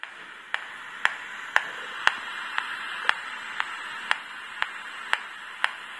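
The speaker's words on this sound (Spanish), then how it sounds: "Este sería el ruido de stand-by del Bluetooth." A steady hiss of static with regular sharp electronic ticks about twice a second, Bluetooth standby interference from a Sony smart TV remote buzzing through a detector speaker.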